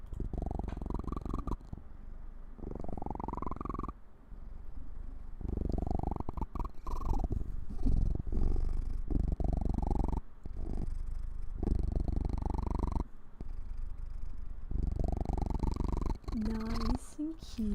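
A pet cat purrs close to the microphone in long, rhythmic rumbling cycles of breathing in and out, steady and fairly loud, with a brief bit of other noise near the end.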